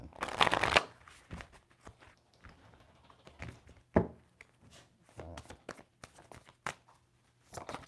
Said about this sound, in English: So let's shuffle these out.